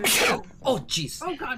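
A single sharp, breathy sneeze bursts out loudly at the start, followed by someone speaking briefly.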